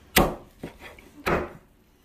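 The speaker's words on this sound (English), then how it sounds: "Now I'm gonna chop up the turkey" Knife chopping grilled jerk turkey breast on a board: two sharp thuds with a lighter tap between, close and alone with no talking.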